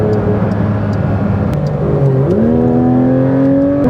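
A 2024 Porsche 992 GT3 RS drives on the Autobahn, its engine droning loud and steady inside the car before the pitch climbs smoothly as it accelerates, with road and wind noise underneath and no talk.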